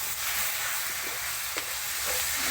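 Pork and onion fry in a pan with a steady broadband sizzle, broken by a few soft stirring scrapes, close and moderately loud with no talking.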